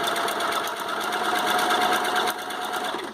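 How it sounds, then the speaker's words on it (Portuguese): A home sewing machine runs steadily while stitching knit bikini fabric along the presser-foot width, a close, continuous mechanical whir with a fast rattling needle rhythm and no talking. "E venho costurando aqui na largura da sapata mesmo."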